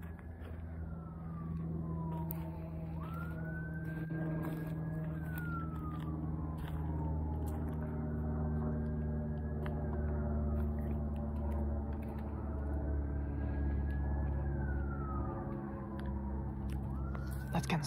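A police siren wails in rising and falling sweeps at night near a cemetery, fairly distant and faint over a low steady rumble, growing slightly closer, with no talking.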